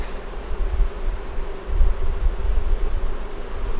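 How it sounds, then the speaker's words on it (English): Honey bees from 8-frame deep hive boxes in a close, steady droning buzz that swells and fades, with light wind and rustle. "They're up on top now buzzing around."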